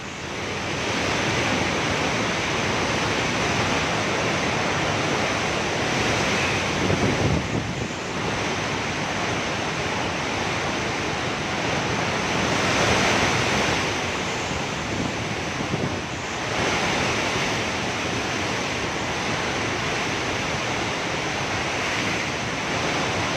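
Strong wind and crashing surf during Super Typhoon Rolly, a signal number 5 storm in the Philippines, roaring continuously and loud with surging gusts throughout and no voices.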